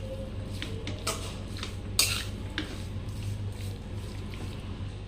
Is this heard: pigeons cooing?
no